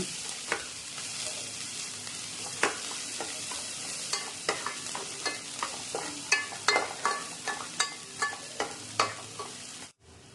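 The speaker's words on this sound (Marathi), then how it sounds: "आता कांदा तोही परतून घ्यायचा" Onion sautéing in a pan for a Malvani-style prawn curry, a constant close sizzle broken by regular scraping strokes of a spatula against the pan, growing more rhythmic toward the end, with no voices.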